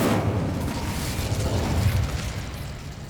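The Incendio fire spell cast in Hogwarts Legacy, a loud whooshing burst of flame that roars close up and then tapers off slowly over a few seconds.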